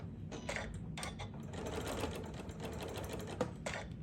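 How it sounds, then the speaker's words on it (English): A sewing machine stitches quilt pieces together along a quarter-inch seam, running in quiet, rapid rhythmic bursts with short pauses between them. "So I'm going to use a 1/4 inch to sew these together."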